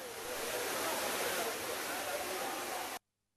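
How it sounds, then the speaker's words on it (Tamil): Heavy, full-volume rush of a waterfall at Courtallam pouring steadily, a dense continuous roar that cuts off abruptly near the end. "பழைய அருவி, ஐந்தருவி எல்லாமே அருவிலையும் நல்லா தண்ணி வந்திருக்கு."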